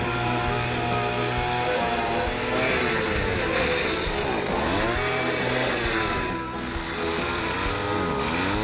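Gas-powered ice auger drilling a fishing hole through lake ice, a steady loud two-stroke engine whine that rises and falls in pitch as the bit bites, continuous and close.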